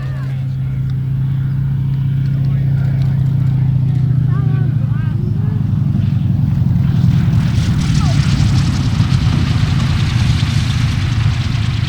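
Vintage aircraft painted as A20-176 coming in to land at the Serpentine Victoria centenary air show, a loud, steady propeller engine drone filling the whole stretch while a voice talks over it.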